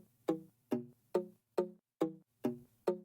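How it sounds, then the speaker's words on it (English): Muted guitar patch from the Pure Synth Platinum 2 synth plugin in a bouncy pluggnb beat, playing seven short, clipped plucks in an even rhythm, each decaying quickly, clean and alone. "I found this muted guitar sound from Pure Synth Platinum 2,"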